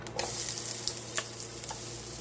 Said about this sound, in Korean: 기름을 두르고 달궈서 센 불에서 빨빨 볶아야 되니까 먼저 양파